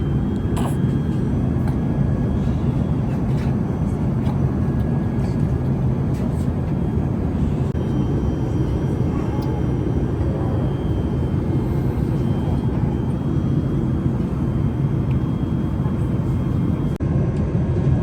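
Steady, loud cabin roar of an airliner in flight, a constant broadband engine and airflow rush with no breaks, with faint voices now and then beneath it.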